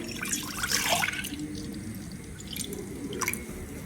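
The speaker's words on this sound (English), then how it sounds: "In the pan, I'll go ahead and add my milk" Milk pours into a cooking pan with a soft, close splashing and trickling that tapers off, followed by a few brief drips.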